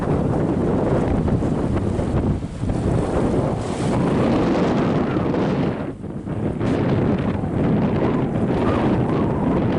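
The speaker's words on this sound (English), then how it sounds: "the sound of the waves for me is almost like white noise." Waves wash and roar continuously along the shore at St Kilda beach, Melbourne, a dense hiss of surf mixed with gusty wind buffeting the microphone.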